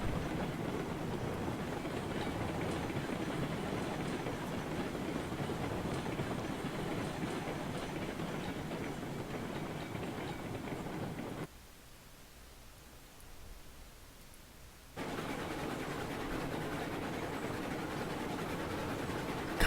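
A steam train in the railroad game Railroads Online runs on as a steady, dense roar and hiss, drops to a softer rumble for a few seconds, then returns to full strength.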